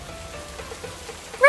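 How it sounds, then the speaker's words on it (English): Steady rain patter falls in the video game Genshin Impact, a soft continuous wash of drops at low level throughout, with a short brighter tone rising at the very end. "Rain!"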